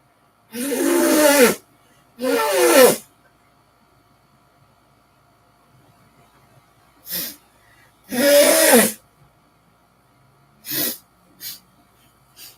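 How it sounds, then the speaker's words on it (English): Several loud, honking nose blows close to the mic, a few long forceful ones and some shorter sniffs, separated by quiet pauses. "I gotta blow my nose."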